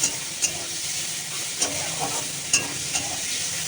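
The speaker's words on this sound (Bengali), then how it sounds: "এখন চিংড়ি মাছটা ভাজবো তেল দিয়ে দিয়েছি কড়াইতে" Shrimp coated in salt and turmeric frying in oil in a wok, a steady close hiss and sizzle with periodic clinks of a spatula stirring.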